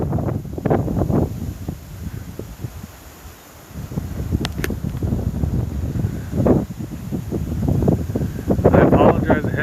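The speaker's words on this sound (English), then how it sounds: "It is very, very, very windy out here." Strong wind blows outdoors ahead of severe storms at Lake of the Ozarks, roaring and buffeting the microphone in close, loud, irregular gusts that briefly ease mid-way before picking up again, with a voice faintly mixed in.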